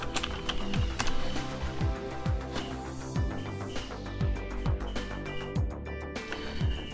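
Password typed on a computer keyboard, a quick run of light clicking keystrokes over a steady background hum, close by, with no talking.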